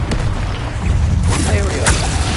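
Bombarda explosion spell in the Hogwarts Legacy video game, a heavy rumbling blast that sits under constant low booming combat noise, with a voice calling out over it.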